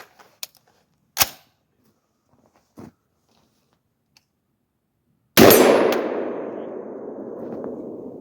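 A CMMG rifle fitted with an adjustable gas block cycles on an empty magazine, with a few sharp, isolated metallic clicks and clanks followed by a loud slam whose sound rings and fades over several seconds.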